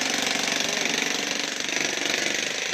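A jackhammer pounds continuously at road construction in Phnom Penh, a loud, rapid, dense hammering that fills the whole clip with no gaps.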